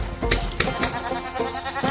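Goats bleating outdoors in winter while being fed apple cores as a treat, repeated close bleats over a steady background.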